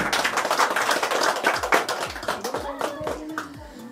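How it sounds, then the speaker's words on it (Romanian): People applaud a grandmother at a home birthday celebration with rapid, close hand clapping that thins into a few scattered claps as it fades. "Îi dăm aplauze și acolo la cameră!"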